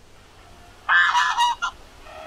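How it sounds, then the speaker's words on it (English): A domestic goose gives a loud, close honk, a harsh drawn-out call followed by a short second note, with near silence before and after. "What sound does a goose make?"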